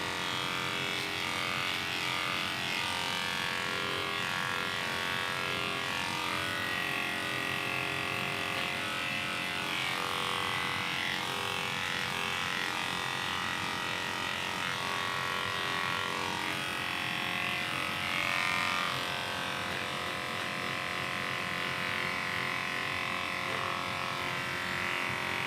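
Electric clippers buzz steadily and close for a long unbroken stretch while shaving the ears of a half Cocker Spaniel, half Dachshund dog being groomed, the motor tone wavering slightly as the blade moves.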